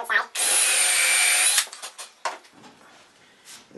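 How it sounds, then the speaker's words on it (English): Power drill pre-drilling holes in a wooden board for a beginner woodworking bench hook, one loud steady whir lasting about a second, then brief clatter and handling noises, close by. "So I'll just go ahead and put pre-drill a few holes."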